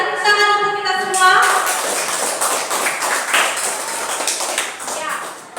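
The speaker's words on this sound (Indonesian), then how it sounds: "Mari tepuk tangan untuk kita semua." Students in a classroom clap together in a brief, uneven burst of hand claps, moderately close, with voices talking over and around the clapping.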